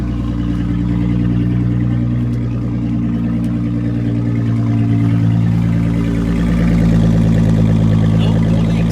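A 2006 Chrysler 300 engine idles with a loud, blatting exhaust, a steady deep rumble rising and swelling slightly as it runs, close and continuous with no talk over it.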